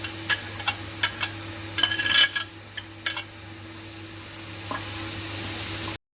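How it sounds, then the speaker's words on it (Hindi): A few stirring knocks, then a steady sizzle of onions frying in a hot kadhai wok for tawa keema that keeps going on its own with no talking. "अब इस कढ़ाई में"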